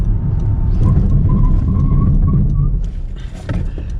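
A 2021 Honda City's engine and road rumble close by, with a squealing brake tone rising over the noise as it brakes hard from 60 km/h to a stop, then settling.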